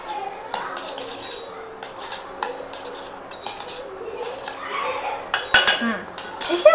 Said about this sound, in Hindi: हाँ अब जाकर अच्छे से मिक्स होगा मसाला सब